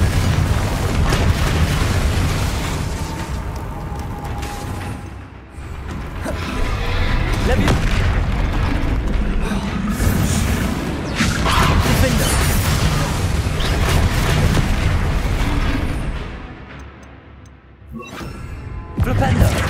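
Confringo explosive spell blasts in a Harry Potter video game, heard as loud, repeated booming bursts within dense, continuous game noise while voices shout spell names throughout.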